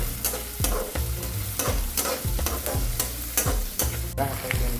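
Onions frying for girmit, with a spoon stirring the pan in a steady rhythm of scraping strokes over a constant close sizzle.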